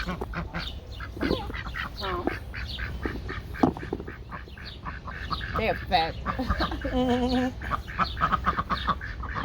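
Ducks quack repeatedly nearby, lounging around fat and lazy, while someone talks to them and chats over the honking calls.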